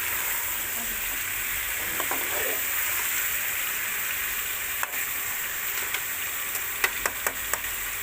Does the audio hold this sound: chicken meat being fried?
yes